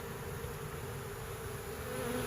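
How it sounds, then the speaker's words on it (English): A swarm of honey bees being hived in fall gives off a continuous, even buzzing hum, soft and steady throughout. "Once we get all the bees in there."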